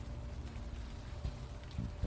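Steady rain falls in the point-and-click adventure game Unavowed, a soft continuous patter and hiss, faint and distant, with a few slightly louder drips or thuds near the end.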